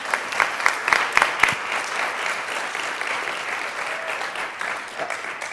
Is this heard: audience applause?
yes